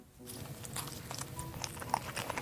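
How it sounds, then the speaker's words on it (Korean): Close crunchy bites and chewing on a sweet potato pizza with an added cheese-stuffed crust, several crisp crackles over about two seconds, with no talking. "고구마 피자 치즈 크러스트 추가했고 일단 그냥 한 입 먹어"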